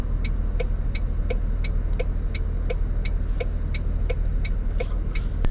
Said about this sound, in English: that turn signal's loud.